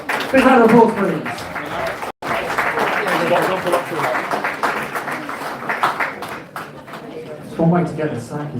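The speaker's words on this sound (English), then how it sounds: "Big round of applause, please." Audience at a student election results night claps for a certificate recipient, lively applause mixed with voices talking and cheering over it, with a brief cut partway through.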